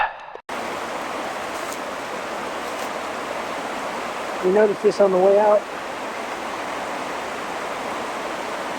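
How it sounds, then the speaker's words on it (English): Steady rushing of a flowing stream in snowy, icy conditions fills the whole stretch, a constant broadband wash, with a short spoken phrase briefly heard over it midway. "that water's flowing pretty good"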